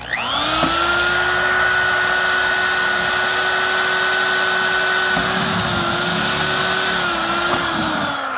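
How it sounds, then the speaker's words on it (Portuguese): A power drill bores a rivet hole through an aluminum angle for a small door hinge, giving a loud, steady high-pitched whine that holds for several seconds with a slight dip near the end. "Eu vou fazer outro furo mais para cima."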